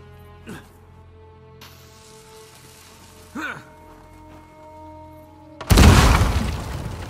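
A dynamite blast in the Uncharted 4 video game blows a door open: one sudden loud, broad explosion bursts in near the end and rumbles on, after quieter ambient game sounds and a couple of brief thuds.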